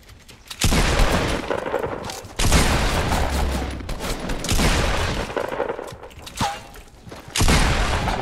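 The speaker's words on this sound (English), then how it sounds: "I'm being shot at from somewhere else" Several loud volleys of rapid gunfire from Fortnite: Battle Royale come in bursts separated by brief pauses, sounding close and harsh.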